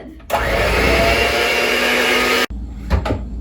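An electric mixer whirs loudly as it blends cake batter for a chocolate torte, running steadily for about two seconds before stopping abruptly, followed by a few bumps and clatters of the bowl and utensils.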